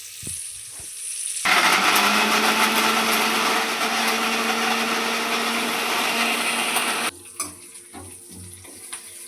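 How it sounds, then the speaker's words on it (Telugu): Tomato paste is ground in a kitchen mixer grinder, a loud, steady high-pitched whir lasting several seconds before it cuts off abruptly, with faint handling sounds before and after. "మిక్సీ పట్టేసుకుంటాను"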